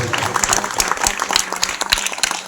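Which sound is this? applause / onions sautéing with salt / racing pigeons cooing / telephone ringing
applause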